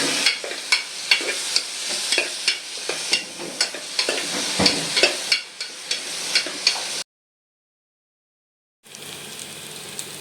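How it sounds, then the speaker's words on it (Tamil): Onions stirred and frying in a home vessel for red meat gravy, a steady crackling sizzle broken by repeated scraping stirs, then a brief silence before the frying resumes. "ஆனியன் வந்து பார்த்திங்கன்னா நல்லா ஓரளவுக்கு ப்ரௌன் ஆகிடுச்சு"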